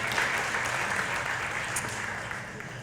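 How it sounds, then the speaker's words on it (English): Audience at a community forum at Pioneer Village applauds steadily for about three seconds, a dense wash of many hands clapping that tapers slightly toward the end. "a round of applause again for changing the narrative"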